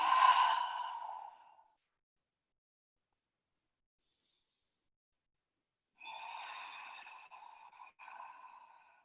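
Open-mouthed exhales during a barre workout, two breathy, voiced sighs separated by a silent pause, the first short and fading, the second longer and steadier, close to the microphone.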